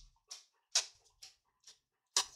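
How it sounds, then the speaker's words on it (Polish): A dog panting on a hot day after being chased about by children gives five or six short breathy bursts with pauses between, fairly close and alone. "Przepraszam za psa, ale sapie mi tutaj."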